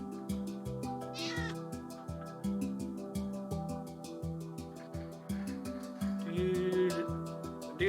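A Minecraft cat meows over and over in a steady run of short tonal calls, close and fairly loud, with no voices over it.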